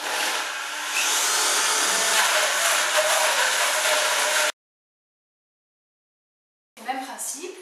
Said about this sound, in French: Donc là il me reste à mixer.